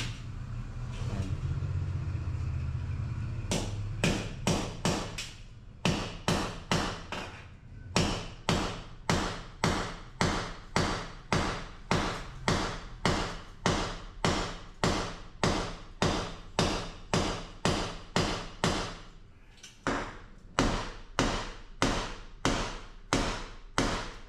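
Hammer striking a hard wall: after a low rumble at the start, a long run of sharp, loud, evenly paced blows, about one per half second, continues close up with brief pauses and no talk.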